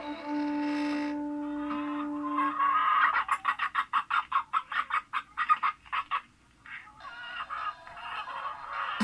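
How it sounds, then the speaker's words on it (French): Hens in a henhouse cluck in a quick run of rhythmic, close calls that rise out of a background of flock chatter, with a steady tone fading away at the start. "pour laisser passer les milliers et les milliers de poules qui s'en allaient dans un tout petit poulailler"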